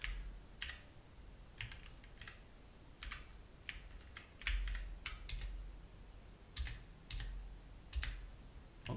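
Close, crisp keystrokes on a computer keyboard come in irregular bursts and single taps with short pauses, during a coding session, with no talking.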